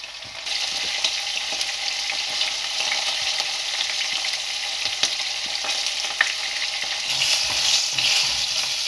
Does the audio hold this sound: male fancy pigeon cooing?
no